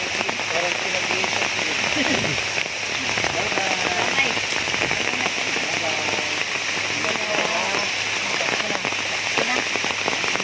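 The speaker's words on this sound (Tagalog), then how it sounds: "Wala naman tayong bagyo. Oo, ulan lang talaga." Heavy rain pours down steadily, a dense hiss of drops pattering on surfaces, with faint voices murmuring underneath.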